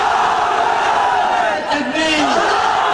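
A large crowd roars a religious slogan in unison at a rally, a dense sustained shout with rising voices near the middle, loud and continuous throughout.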